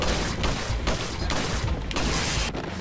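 Rapid gunfire in the video game Resident Evil 4 Mercenaries, a dense, loud, continuous burst of shots with no clear gaps between them.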